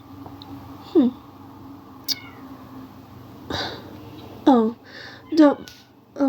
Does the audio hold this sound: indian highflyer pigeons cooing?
no